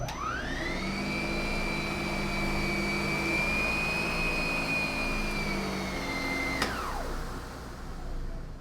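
A Lindhaus PB14 cordless anti-tangle central vacuum head whirs up to a loud, steady high-pitched whine while picking up fine sand from carpet, holds for several seconds, then spins down abruptly.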